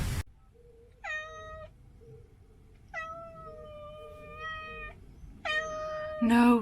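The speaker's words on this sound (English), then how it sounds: "We seem to have adopted a ship's cat." A ship's cat meows beside a narrowboat moored on a canal lock flight, three drawn-out, clear meows spaced across the moment, fairly close, with a faint low background rumble and no talking.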